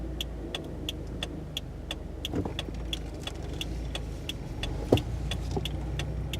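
A manual-transmission car pulls away from a stop, giving a steady low engine hum with a regular faint ticking throughout and a brief louder knock near the end; no one speaks.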